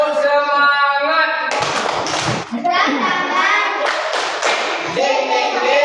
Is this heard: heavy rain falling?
no